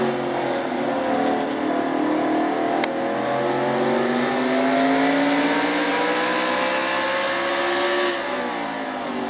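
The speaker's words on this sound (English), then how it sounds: "we ride along with Dylan Poteet in the number 22 car" Onboard engine of the number 22 race car at Martinsville, a loud continuous high-revving roar with pitch sweeping up and down through gear and throttle changes, a brief click near the start and no voices.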